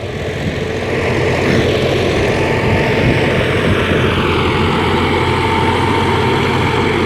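A loud, steady tractor engine drone rumbles throughout while running a rotavator, a heavy continuous machine roar close by with no talking.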